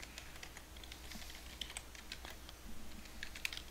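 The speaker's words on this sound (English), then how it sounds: "I don't think I typed that one right." Typing on a computer keyboard while setting up a Windows PC, soft irregular key clicks in quick uneven bursts, faint and close with a steady low hum underneath.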